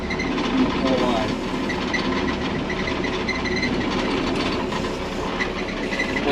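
A Massey Ferguson 587 combine harvester pulls away in second gear, its engine a loud, steady rumble with rhythmic mechanical clatter throughout.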